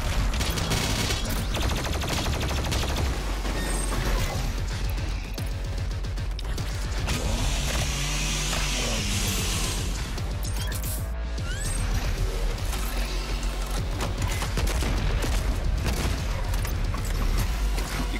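Booming explosions and dense rapid gunfire from a Doom Eternal boss fight against a gladiator, loud and continuous with heavy low-end blasts throughout.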